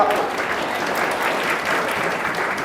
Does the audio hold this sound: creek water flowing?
no